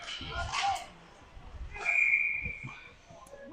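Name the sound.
referee whistle at a hockey game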